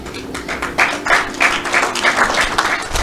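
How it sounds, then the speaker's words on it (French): A small audience applauds in an indoor gathering, claps coming in uneven pulsing bursts that build through the few seconds, fairly close and without other voices. "Je remercie le DG Jonas Daoud d'avoir applaudi sur ça"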